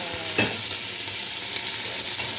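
Carrot and green pepper stir-fry in a pan while pancit is being cooked, a steady close sizzle with a brief scrape of stirring near the start.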